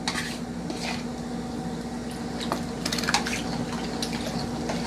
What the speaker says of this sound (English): So you're going to stir it in